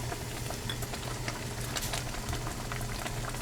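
Peach jam with added sugar boiling in a pot: a steady close bubbling and sizzling wash with scattered pops throughout, no voices.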